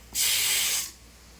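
A small pressure cooker lets out a loud, steady hiss of escaping steam for just under a second. It starts and stops abruptly against a quiet room.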